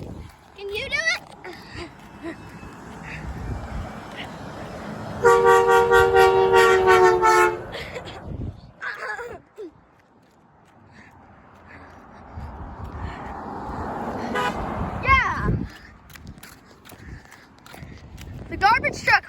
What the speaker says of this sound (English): The garbage truck honked.